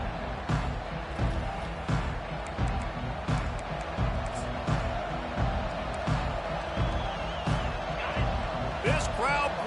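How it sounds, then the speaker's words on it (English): Stadium crowd noise at a Texas vs Auburn college football game, a steady roar with rhythmic swells and cheers running throughout, heard beneath a commentator talking. "This crowd bringing the energy and noise early."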